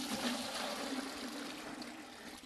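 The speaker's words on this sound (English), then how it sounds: "And just pour it in the other bucket." Water pours steadily from one bucket into another at Yuntai Mountain, a soft continuous trickling stream heard faintly and alone.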